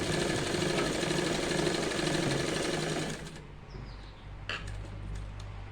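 A sewing machine runs steadily while stitching a folded half-inch hem on a salwar pocket, with a loud, continuous mechanical whir that stops abruptly about halfway through, leaving quieter handling noises.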